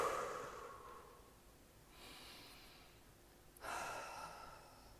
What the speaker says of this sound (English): Let's just breathe right now.